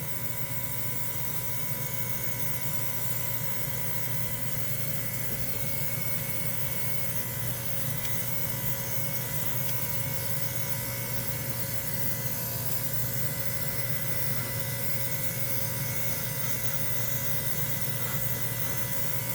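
Steady, continuous hiss of an airbrush spraying primer, unbroken for the whole stretch with a constant mechanical hum beneath it.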